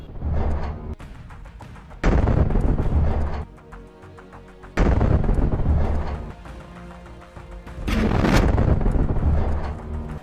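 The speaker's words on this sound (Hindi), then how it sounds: "इसके बाद एक मेरकावा टैंक को धमाके के साथ उड़ा दिया जाता है। रिमोट से ब्लास्ट किया जाता है।" Several heavy, booming blasts roll out in separate bursts as a Merkava tank is destroyed by a remote-detonated explosion, each a deep rumbling roar that swells and then fades.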